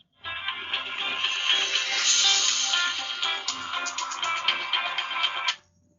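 A phone ringing indoors during a conversation at a bar, with a steady, bright electronic ring that sounds near and fairly loud for about five seconds and then stops.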